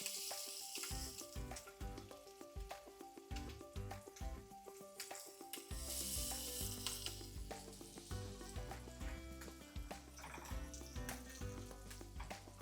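Seasoned scallops sear face side down in a hot oiled pan, giving a loud, steady sizzle that swells and crackles throughout.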